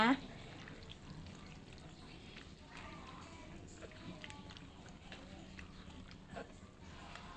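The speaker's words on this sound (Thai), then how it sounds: "พอเทน้ำปูนใส ใส่เรียบร้อยค่ะ" Limewater made from white slaked lime, the kind used with betel, is poured into a container in a kitchen while candying kaffir limes, a soft steady splashing trickle that stays quiet and low throughout.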